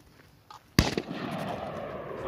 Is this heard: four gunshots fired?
yes